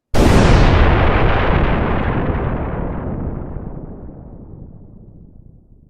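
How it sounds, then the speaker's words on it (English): A huge bombing-from-orbit explosion sound effect: one sudden, loud, close blast that rolls into a long rumbling decay, fading slowly over about six seconds with no voices. "we are going to bomb it from orbit"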